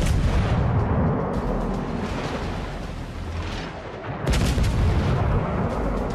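Naval artillery in the World of Warships video game, with HE shells fired aboard the US cruiser Puerto Rico, booms in a dense, continuous roar of heavy gunfire and rumbling blasts that stays loud throughout, with a sharp fresh burst near the end.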